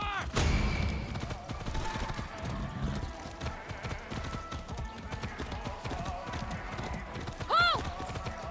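Rhythmic horse hooves clip-clop along at a steady pace under background sounds in Far Cry 6, with a brief whinny near the end.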